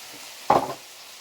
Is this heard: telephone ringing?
no